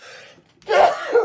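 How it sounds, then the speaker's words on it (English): A single sneeze bursts out sharply after a brief soft intake, close and loud, in a casual sports-talk setting. "Don't sneeze no more. No more sneezing."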